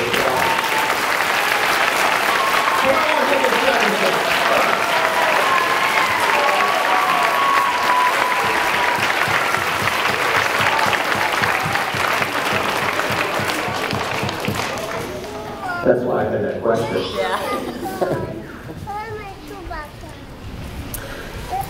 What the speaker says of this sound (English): So can we give Ms. Dragosic a hearty round of applause?